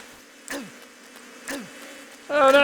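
Buzzing bees from the Metal Gear Solid 3 video game, heard as two short swooping buzz passes about a second apart, followed by a louder burst of tonal game sound at the end. No one speaks.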